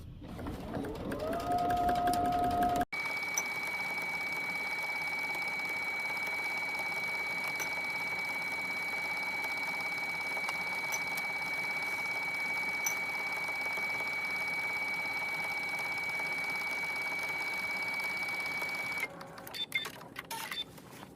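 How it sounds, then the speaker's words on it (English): A sewing machine stitching cargo pants fabric, a steady whirring hum that runs unbroken for about sixteen seconds and stops briefly at the start and end, with no talk. "let's take that to the machine and give it a stitch"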